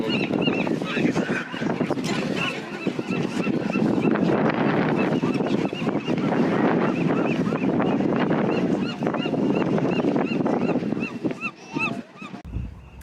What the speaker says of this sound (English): Oh, look at all the birds.